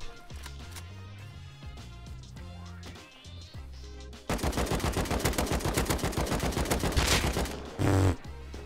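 Automated turret gunfire in the survival video game Rust erupts as a loud, rapid, sustained burst of shots about halfway through, following a quieter stretch of low tonal background music, then ends in one final heavy blast.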